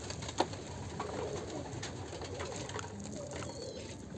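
Domestic pigeons coo softly and continuously at a low, steady level while they are fed mixed grain, with one brief louder knock near the start and no talking.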